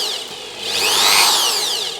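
An IBELL TD13-100 impact drill runs under trigger control, its motor whine rising in pitch as it speeds up, then easing back down, loud and close with no talk.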